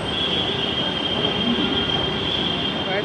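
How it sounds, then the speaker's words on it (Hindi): A metro train rumbles at a station platform, a steady loud roar with a high squealing tone from the wheels running throughout. "प्लेटफॉर्म पे आ चुका हूँ, मेट्रो का वेट कर रहा हूँ।"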